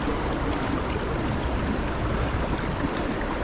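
A forest stream rushes steadily along a wintry mountain hiking trail near Carr Mountain, a dense, continuous close-up wash of flowing water with no voices.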